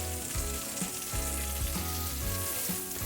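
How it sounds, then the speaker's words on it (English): Brussels sprouts crisping in hot oil in a pan, a steady close sizzle and crackle with soft stirring bumps, no voices. "We're gonna crisp them a little bit in the oil,"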